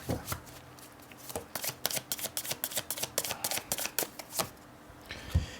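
A deck of tarot cards being shuffled, a rapid series of crisp riffling snaps and flutters close to the mic, repeating in quick bursts with no talk.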